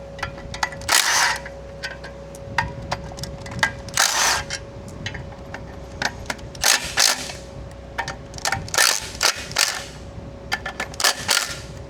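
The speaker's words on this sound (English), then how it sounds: "let's see if the little baby Milwaukee will take it off." A small Milwaukee cordless impact tool removes bolts from a Jeep XJ during a clutch job, with short bursts of sharp rattling hammering separated by pauses and clicks, fairly close and with no talk.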